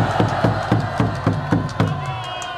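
A crowd at a Korean political rally in Dongdaemun protesting a presidential impeachment claps and cheers. About seven evenly spaced, loud claps in unison ride over a steady crowd roar before fading into general noise.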